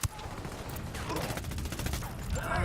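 A grenade goes off in Tom Clancy's Ghost Recon Wildlands with a sharp burst and then a rough, crackling roll of blast noise that lasts the rest of the moment, loud and close, while shouted voices come and go.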